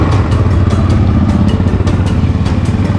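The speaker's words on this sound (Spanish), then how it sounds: "Y es que vamos 8 motos juntas," Loud, close Yamaha motorcycle engines roar continuously with a throbbing, rumbling drone and wind buffeting, riding along in a group of eight bikes during a desert rally.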